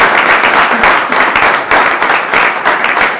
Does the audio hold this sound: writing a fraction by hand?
no